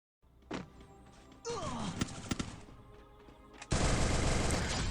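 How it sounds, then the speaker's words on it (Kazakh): Video game gunfire comes from above the player, with scattered sharp shots and short bursts that build to a loud, dense barrage near the end. "маған төбеден басқа бір вообще танымайтын бір адам келіп атып бастады"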